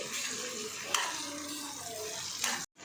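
Tomatoes, green chillies and tamarind simmering in a pan for a dosakaya chutney, a steady close bubbling sizzle with a couple of brief stirring scrapes, then a sudden cutoff.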